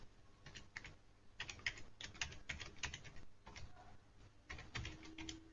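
Typing on a computer keyboard while writing a MATLAB program: bursts of close, quiet key clicks in an irregular rhythm, alone with no talking.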